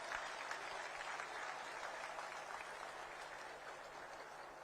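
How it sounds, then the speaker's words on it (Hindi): Audience applause at an International Yoga Day 2023 event after a short performance, a steady wash of clapping that holds evenly for the whole stretch at moderate distance, with no voices over it. "एक बार जोर से इनके अभिनंदन में तालियां"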